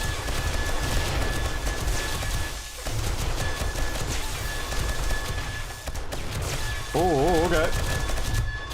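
Loud, sustained weapon fire from the survival game 7 Days to Die, with rocket blasts striking close by, fills the scene with a few brief lulls, and someone speaks briefly over it.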